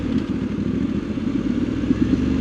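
A Voge DS900X adventure motorcycle pulls out of a bend in second gear, its engine a steady, loud mid-pitched drone with a slightly uneven, pulsing throb.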